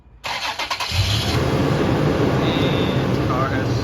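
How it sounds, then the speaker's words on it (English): A car with freshly installed aftermarket lights and an added fuse cranks in a few quick pulses, then catches and settles into a steady, close engine rumble. "And the car has started."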